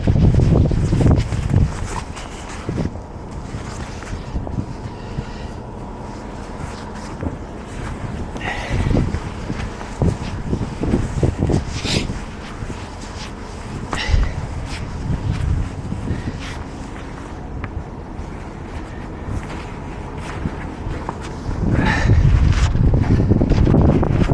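Strong wind buffets the microphone on a boat out on open water, with heavy gusts rising and falling throughout and louder rushing bursts near the start and end.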